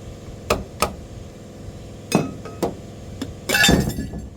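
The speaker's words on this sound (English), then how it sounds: "So what you do is you're going to pop these clamps off of there." Metal clamps popped off a truck brake chamber, a series of sharp clanks and clinks at irregular spacing, with a louder cluster of metallic rattling near the end, close by.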